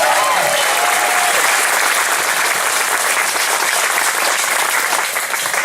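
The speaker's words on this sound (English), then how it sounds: "Give a big round of applause for Bill Johnson." A crowd at a political rally applauds loudly and continuously, a thick wash of clapping with faint cheers early on, easing slightly at the end.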